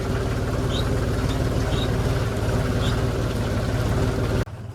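A tractor engine drones loud and steady, with a low rumbling throb, as the tractor drives through water on a farm. No one talks.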